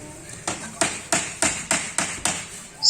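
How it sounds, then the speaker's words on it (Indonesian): Hammer driving nails while a bamboo fence and bamboo screen go up at a base camp: seven sharp, evenly spaced blows about a third of a second apart, close and clear, ending in a louder clack. "samping yang sedang mukul-mukul palu, mukul paku"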